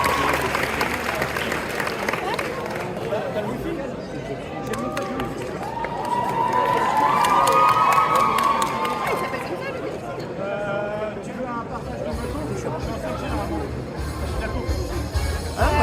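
Audience applause and cheering for a cosplayer at a cosplay contest at the Japanantes convention, a dense crowd wash with chatter and a voice speaking over a PA in between.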